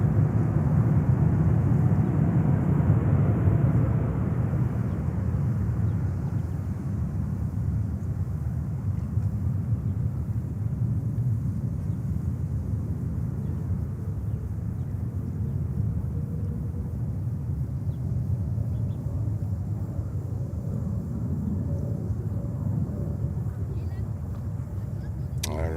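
Airliner taking off from runway 13 right at JFK, a loud, steady jet roar and low rumble that holds for the whole stretch and eases slightly after the first few seconds, with a voice faintly present.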